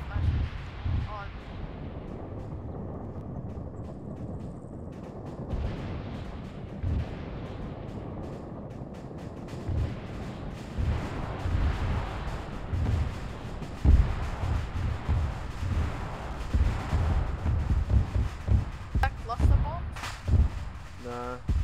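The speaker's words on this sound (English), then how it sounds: "Bombs. It's AC-130, it carries 20 mm." Heavy booms and distant 20 mm cannon fire from an AC-130 gunship in ArmA 3, scattered thuds and rumbling impacts over wind noise, with people talking over radio throughout.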